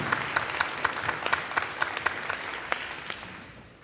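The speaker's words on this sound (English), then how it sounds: "Give her a big round of applause" Audience at a youth-healing symposium greets Dr. Micki Harris with steady, bright applause, many hands clapping together with a few sharper individual claps standing out, fading slightly toward the end.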